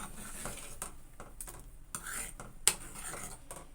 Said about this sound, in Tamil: கிளறி விடுங்க.